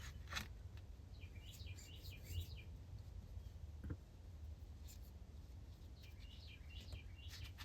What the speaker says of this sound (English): There's a little bird out there really talking.